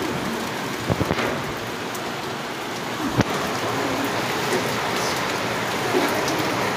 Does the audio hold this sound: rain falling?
yes